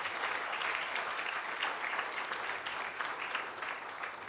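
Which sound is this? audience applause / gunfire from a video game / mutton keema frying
audience applause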